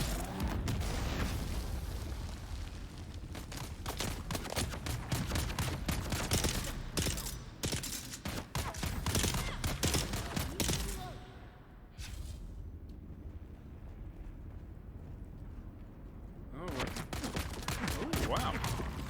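Dense, sustained gunfire and booming blasts in the video game Dune: Awakening, loud and continuous for most of the stretch with a brief lull near the end, while voices talk over the firefight.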